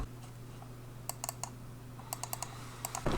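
Sharp, close SteelSeries Rival 3 gaming mouse button clicks come singly and in quick pairs, a dozen or so in all, crisp against a faint electrical hum.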